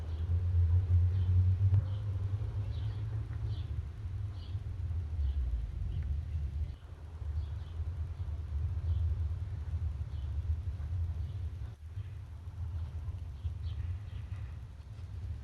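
Trucks passing outside on a Sunday morning give a low, steady rumble that swells and fades at a distance, with faint higher ticks and calls scattered above it and no speech.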